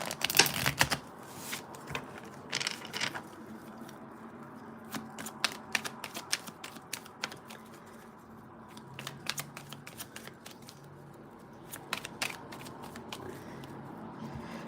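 A deck of tarot cards is shuffled in quick, dry bursts of riffling and flicking, close and fairly quiet, with brief pauses between rounds and no speech.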